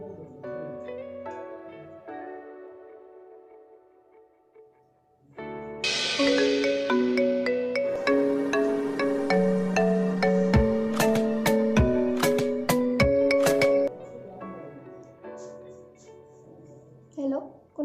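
A mobile phone ringtone plays during a call, a loud bright electronic melody of repeating tones that starts partway through and rings steadily for several seconds after soft background music.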